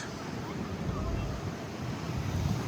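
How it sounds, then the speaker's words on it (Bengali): Heavy rain and strong wind on a night in Qatar make a steady, loud, close roaring wash that holds without pause for the whole stretch. "প্রচুর বৃষ্টি পড়তেছে"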